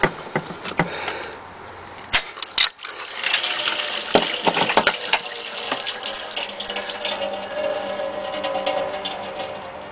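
Coolant pours steadily from a Jetta TDI into a metal pan, a continuous splashing trickle with occasional sharp clicks and knocks nearby.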